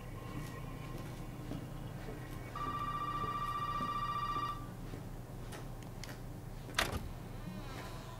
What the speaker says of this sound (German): Das Telefon klingelt immer noch.